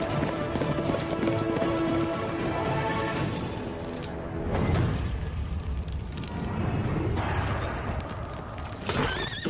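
Horse hooves clip-clop steadily in a dramatic film scene, mixed with a loud orchestral score and booming effects, with a horse neighing near the end.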